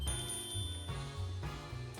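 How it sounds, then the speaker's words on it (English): A bell rings in the video game Detective Pikachu Returns, bright tones heard over continuous game music with a steady bass line, carrying through the whole stretch without speech. "I'll try ringing the bell they lent me."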